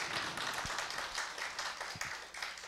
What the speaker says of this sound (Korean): 최재원 교수님께 여러분 큰 격려의 박수를 한번 부탁을 드립니다